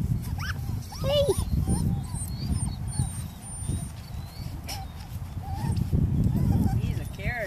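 Five-week-old Norwegian Buhund puppies whimper and yip in short, high cries scattered through the clip, under near, steady human talk and handling noise.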